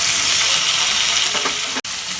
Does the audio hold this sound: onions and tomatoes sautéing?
yes